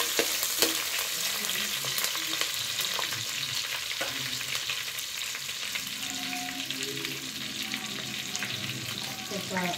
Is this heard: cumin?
yes